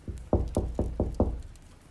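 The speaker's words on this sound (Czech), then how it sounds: "A pak se najednou ozvalo zaklepání na dveře." A knock on a wooden door in a quiet house: five firm, evenly spaced raps, close and distinct, with no other sound around them.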